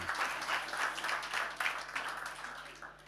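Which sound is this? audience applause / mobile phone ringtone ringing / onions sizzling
audience applause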